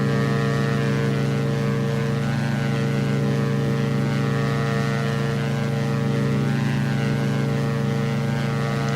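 Twin engines of a Diamond DA-62 climbing out in the X-Plane 11 flight simulator, a loud continuous propeller drone with steady harmonic tones, unbroken and close throughout.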